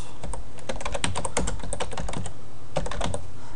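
A search is typed on a computer keyboard, a quick run of close, crisp key clicks in bursts with a brief pause before a final flurry.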